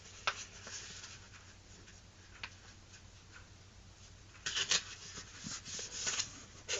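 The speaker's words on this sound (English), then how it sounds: "Fold it to the edge." A sheet of paper being folded into a paper airplane gives faint rustles and creasing rubs, with a few soft taps and louder scraping near the end.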